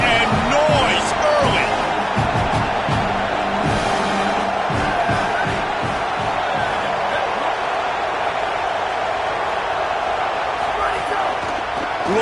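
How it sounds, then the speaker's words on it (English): A stadium crowd roars in an NCAA college football video game, a dense, sustained wash of cheering with thumps and shouts, heard under a play-by-play commentator's talk. "This crowd bringing the energy"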